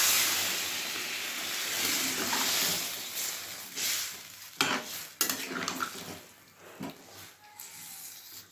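Water poured into a hot frying pan hisses and sizzles, with a spoon scraping and stirring and a few sharp clinks against the pan, close and fairly quiet with no talk.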